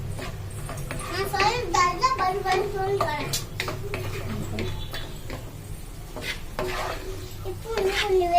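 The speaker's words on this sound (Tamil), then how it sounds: "நெய் நல்லா உருகினதுக்கு அப்புறம் முந்திரி போட்டுக்கலாம்." Cashews frying in melted ghee in a kadai for rava laddu, a steady soft sizzle under stirring and light scraping of a utensil against the pan, with a voice talking over it.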